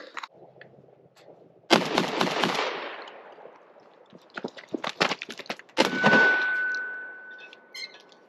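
A Benelli M4 shotgun firing buckshot outdoors, with a few loud booming shots and echoing tails, separated by quicker bursts of blasts and some metallic clanks.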